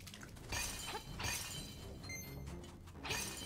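A skeleton swordsman in Zelda: Link's Awakening is blown up and collapses, giving a few loud crunching, shattering bursts of breaking debris in quick succession, with no talking over them.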